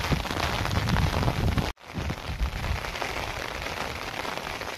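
Heavy rain pours down steadily over flooded ground, a dense close hiss of drops on surfaces, broken by one brief dropout before the downpour carries on.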